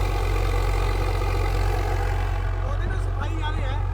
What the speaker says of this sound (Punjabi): ਟਰੈਕਟਰ ਹੋਰ ਸਪੀਡ 'ਚ ਆ ਗਿਆ ਜੀ